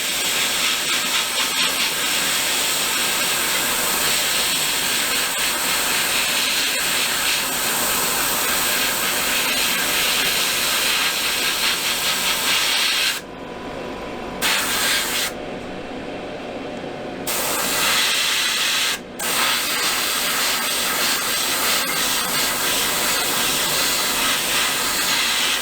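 Airbrush or spray can laying down paint on a Zvezda 1/48 scale SU-57 fighter model kit: a steady, loud, close hiss running nearly continuously, broken by a few short pauses between passes before resuming.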